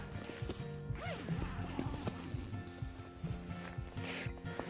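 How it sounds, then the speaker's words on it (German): A YKK zipper on a JR Gear Helium 750 winter sleeping bag is worked in several rapid passes, close and fairly quiet, giving short rasping zips with some rustling of fabric between them. "Zusätzlich hat der Schlafsack YKK-Zipper, die auch, wenn man beide Hände benutzt, sehr gut laufen."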